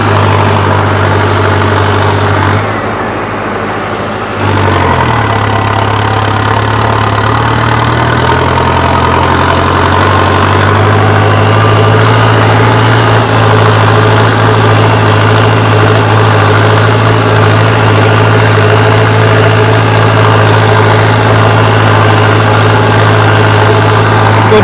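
Tractor engine idling steadily at low speed while hitched to a cultivator in a field, a continuous deep rumble with a brief dip near the start, no talk.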